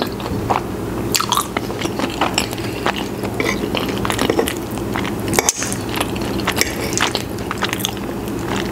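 A mouthful of four cheese pizza from Cheesecake Factory is chewed close to the mic, with continuous wet, squishy mastication and soft crackly bites in a steady rhythm, with no talking.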